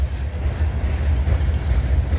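A CN Rail freight train rumbles past, a loud, close, steady low roll of wheels and cars with faint rhythmic clatter and no voices.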